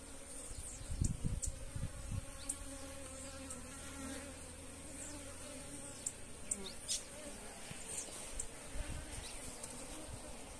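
A swarm of bees buzzing steadily around a wooden hive box on a rural smallholding, a dense continuous drone with occasional louder passes near the microphone and faint voices in the background.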